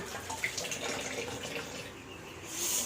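Tap water runs as hands are washed, a continuous close-up splashing rush with small shifts as the hands move under the stream.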